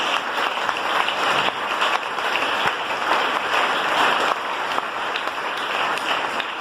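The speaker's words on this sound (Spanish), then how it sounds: "Denle ese aplauso al Señor" A church congregation applauds in sustained, dense clapping that fills the room at a steady, loud level for several seconds with no talking over it.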